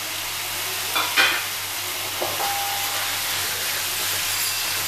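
Chicken mince frying in oil-rich spiced masala, with fried potatoes about to join it: a steady, close, loud sizzle throughout, broken by a couple of brief stirring scrapes early on.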